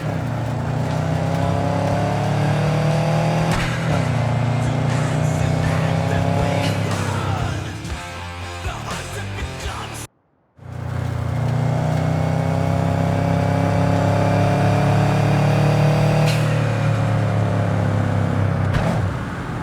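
A car engine in the game Cyberpunk 2077 drones steadily and up close, with revving pitch changes, a sudden brief dropout near the middle, then a return to the steady hum.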